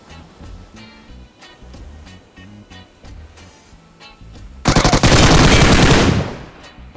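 Quieter scattered shots give way to a loud, sustained burst of automatic fire lasting over a second in PUBG, close and dominant, then cutting off.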